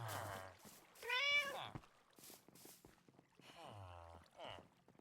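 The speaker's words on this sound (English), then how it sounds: "Do I have a kitten somewhere?" A kitten in the Minecraft video game meows repeatedly, several short, close, distinct cries spaced out over a few seconds against a quiet background.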